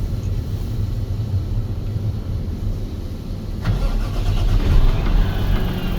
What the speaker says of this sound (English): go ahead and turn and hold until the engine fires up